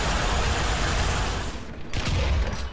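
Gunfire in the tank combat game War Thunder, a dense, loud, continuous barrage of blasts and rumbling explosions with a brief dip before another heavy burst.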